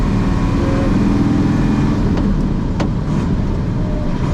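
A Unimog UL 1700 with a turbocharged six-cylinder diesel of about five litres drives along in fifth gear, a loud steady low rumble with road noise heard from inside the cab.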